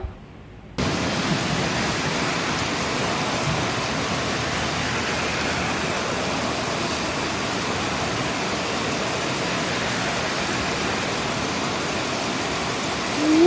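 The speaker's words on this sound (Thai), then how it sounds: "ฝนตกแรงมาก" Heavy storm rain pours down outdoors in Thailand, starting abruptly and then holding as a dense, even hiss of downpour, loud and unbroken for the remainder.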